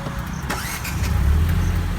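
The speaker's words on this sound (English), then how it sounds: "let me turn this car on for you guys." Engine of a 2017 Ford EcoSport turning over and catching, the crank giving way to a steady low idle heard up close inside the car.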